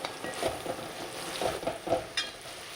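Crushed black pepper and coriander powder being stirred in a frying pan for pepper chicken roast, a soft low sizzle broken by several light scraping strokes and taps close up.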